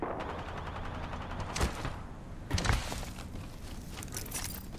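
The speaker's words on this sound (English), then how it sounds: "Some fuckers shooting at me." Gunfire in the Apex Legends battle royale game during a ranked match: two distinct bursts of shots stand out over a steady background of game ambience, moderately loud, with no talking.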